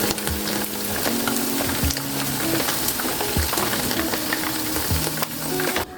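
Chilli beef pieces frying in hot oil give a steady, loud sizzle with bubbling crackle and a few scraping stirs, close up and continuous, with no one talking.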